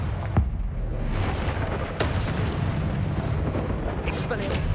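Confringo spell blasts in Hogwarts Legacy, a few sharp booming explosions with rumbling tails, close and loud under a steady roar of in-game action.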